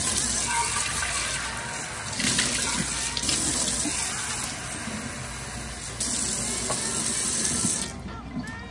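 Tap water gushes steadily into a container to refill a pet's water, close and continuous with slight changes in the flow before it cuts off at the end.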